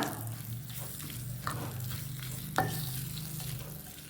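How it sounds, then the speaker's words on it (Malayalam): Onions soaked in lemon juice, vinegar and salt are stirred in a bowl, a close, soft wet squishing and scraping with a couple of sharper knocks against the side. "ഇനി ഇത് നന്നായിട്ടൊന്ന് ഇളക്കുക."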